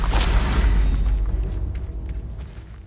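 A Confringo fire spell blasts in the Hogwarts Legacy video game, a loud deep boom with a sharp crack up front that rumbles and fades slowly over a few seconds, with no talking.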